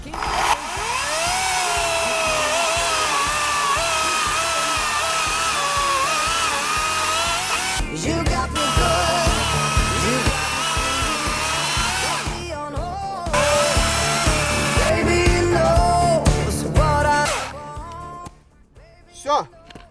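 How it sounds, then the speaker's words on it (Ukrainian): An FGT FCS14 battery-powered saw runs steadily under load, its motor whining as it cuts through a round log, with brief pauses and restarts near the end. "якщо брати ось такий кругляк, то пилка прям на одному подиху справляється"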